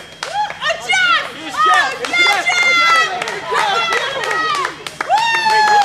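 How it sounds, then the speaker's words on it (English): Crowd of spectators cheering and clapping for a runner at an outdoor five-mile charity race, loud and close, with excited voices and children's shouts mixed in and no clear lone talk. "A big cheering section for Plainview's Jeff Cohen."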